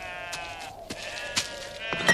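A sheep bleats several times close by, with wavering, nasal calls and short pauses between them over a quiet background.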